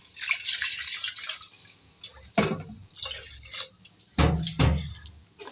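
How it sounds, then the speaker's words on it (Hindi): Water goes into a cooking pot of black pepper, cloves, cardamom and salt for chicken yakhni, heard as several irregular close splashes and pours between quieter gaps. "3 गिलास पानी ऐड करेंगे"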